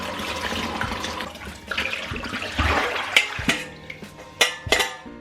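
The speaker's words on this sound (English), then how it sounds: "strain it and wash it with water so it will not stick to each other" Cooked tapioca pearls are rinsed under running tap water in a strainer, a loud splashing rush with clinks of the strainer and pan, tailing off into sharp metallic knocks and clatters near the end.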